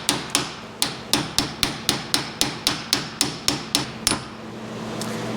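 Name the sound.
flat face hammer tapping a tractor hydraulic pump part in a vise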